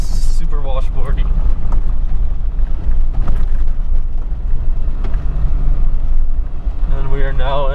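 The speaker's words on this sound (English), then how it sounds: "This road looks like it's really good, really well maintained, but it's super washboardy." A 4x4 rumbles over a washboard gravel road on the way up Mauna Kea, with loud, constant low-end road and engine drone and some wind, while people talk inside the vehicle.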